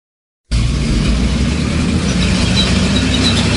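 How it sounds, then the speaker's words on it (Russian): A cartoon tank engine sound effect: a loud, steady low rumbling idle with clanking texture that starts abruptly after a brief silence and holds constant to the end. "Танк."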